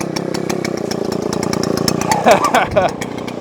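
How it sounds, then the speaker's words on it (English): A Neotec chainsaw roars loud and close at a steady high pitch, then bogs and surges as it bites into a large log, with a voice talking over it. "This saw is awesome. Look at that thing rip."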